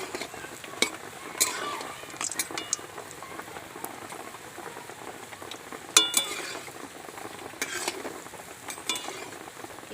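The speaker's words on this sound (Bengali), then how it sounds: "এবার আমি লাল লাল করে ভেজে নেব।" Tal bara, soft palm fritters, deep fry in hot oil with a continuous bubbling hiss, broken by occasional metallic scrapes and clinks of a spoon against the pan.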